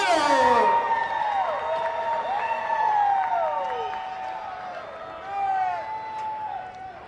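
A crowd at the Redwood Acres Raceway NorCal Legend Series main event applauds and cheers for the race winner. The applause is heard faintly under loud amplified announcer talk echoing across the track.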